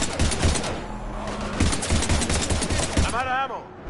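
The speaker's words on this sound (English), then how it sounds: "We're taking heavy fire." Heavy automatic gunfire in a Mass Effect 3 firefight against husks, rapid loud bursts of shots hammering close under agitated talking voices.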